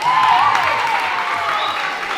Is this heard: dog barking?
no